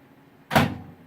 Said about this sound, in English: you're going to want to open the door of the microwave